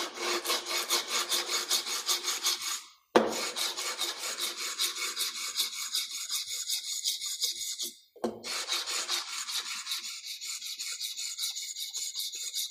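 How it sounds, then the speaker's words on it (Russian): A chisel is stroked back and forth on a sharpening stone in a honing jig, giving steady, rhythmic, close rasping strokes in three runs separated by brief pauses, with no voices. "Сейчас я буду затачивать, то есть доводить ее"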